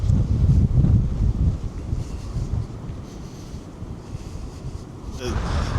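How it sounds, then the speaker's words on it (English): Strong wind on Big Stump Beach on the central Oregon coast roars across the microphone in heavy, low gusts, with a faint wash of surf underneath. The buffeting is loudest at the start and swells again near the end. "Let me tell you, it is windy as the dickens out here."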